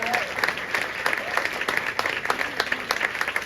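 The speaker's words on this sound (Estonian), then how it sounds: "palun tehke lihtsalt üks suur aplaus kogu Džässkaare tiimile" A concert audience gives a hearty round of applause to the event team, a steady, close wash of clapping with individual claps standing out, lasting throughout.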